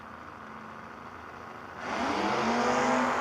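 Drag race launch between a Camaro and a Mustang at a no-box 660 shootout, heard as a low steady rumble that swells into a louder engine roar about halfway through, with no talk.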